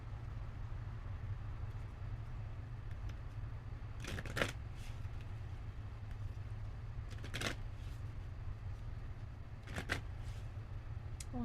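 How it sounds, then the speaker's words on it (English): A deck of oracle cards is shuffled in a few quick riffling bursts, soft and close, spaced several seconds apart over a steady low hum. "I'm shuffling the wrong deck"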